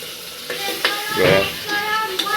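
Onion and tomato gravy poured into hot oil, hissing and bubbling up in a loud surge, with a few clinks and scrapes of a spoon against the pan, close by, with no voices.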